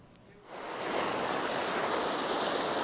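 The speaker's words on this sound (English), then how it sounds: "Gore Creek is moving fast." Fast-flowing Gore Creek outdoors, a broad steady roar of rushing water that rises within the first second and holds loud and continuous, heard alone without talking.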